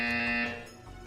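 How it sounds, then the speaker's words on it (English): A buzzer from the video game Portal 2 sounds loudly alone for about half a second, a harsh steady tone that then fades out. "You will hear a buzzer."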